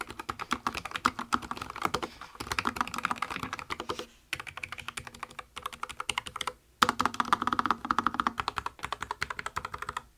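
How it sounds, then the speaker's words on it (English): Typing on a ProtoArc MECH K300 mechanical keyboard with red switches: rapid, fairly soft clacking keystrokes in quick bursts, broken by brief pauses, heard close and alone. "here's a typing test for you guys to see how quiet and how this thing actually sounds like"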